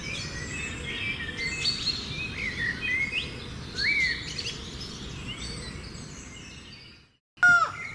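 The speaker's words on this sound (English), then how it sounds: "Laughing falcon, not a common bird of prey, but rather an executioner." A laughing falcon calls from the edge of an Amazon forest, high among scattered treetops, its repeated calls rising over a dense bed of jungle insects and birdsong, with a brief pause near the end before a louder call returns.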